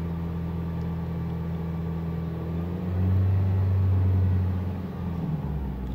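A Honda Civic's A/C compressor clutch engaging under the hood, a low steady engine hum that shifts into a deeper, louder drone for a couple of seconds before settling back, with no voices.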